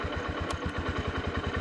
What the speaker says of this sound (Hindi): अभी सबसे पहले हम यहाँ पर बाइक को स्टार्ट करते हैं,